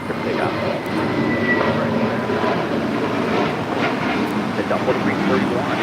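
Airbus A320neo jet roaring on takeoff from runway 25 Right at LAX, a loud, steady broadband engine rumble throughout, with a faint voice underneath.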